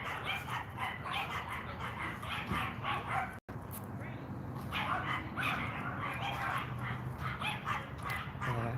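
A small pack of about three chihuahuas barks and yips in rapid, overlapping bursts, with occasional whimpers, fairly close and persistent, while someone talks over them.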